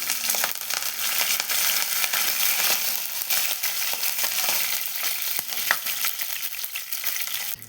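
Mustard seeds, cumin and curry leaves tempering in hot oil for stuffed brinjals, giving a loud, continuous crackling sizzle with scattered pops throughout.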